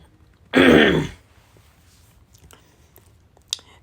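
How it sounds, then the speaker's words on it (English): One short, forceful throat clearing up close, then near silence with a couple of faint clicks. "let me clear my throat"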